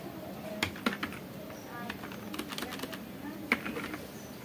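Quiet, irregular tapping on a computer keyboard while Python code is typed, with scattered soft keystrokes in a hushed room.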